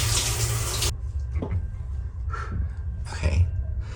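A shower aboard an Amtrak sleeper train sprays loudly and close for about a second, then cuts off, leaving quieter knocks and small handling sounds in the cramped cabin.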